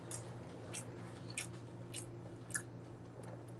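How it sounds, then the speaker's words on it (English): Someone chews a crunchy bite of food close to the microphone with soft, irregular crunches and squishes at a slow, uneven pace over a low steady background hum. "Y'all heard that crunch?"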